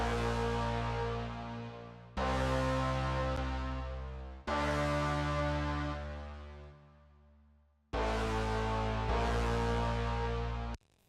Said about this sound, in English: let's move to the brass, which just follows the root notes